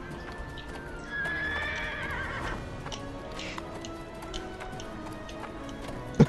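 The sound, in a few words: horse neighing in Neverwinter video game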